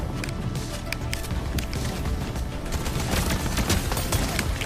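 Rapid, continuous weapon fire in a Fortnite match, a dense crackle of shots loud and close throughout the few seconds with no pause.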